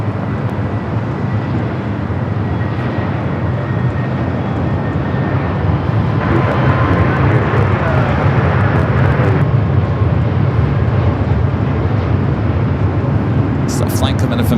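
An airliner taking off from runway 24 left at Los Angeles LAX airport, heard as a loud, continuous broadband jet roar that holds steady for the whole stretch.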